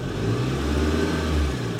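A car engine revs steadily as the accelerator is pressed, giving a continuous, close, loud mechanical drone with no speech.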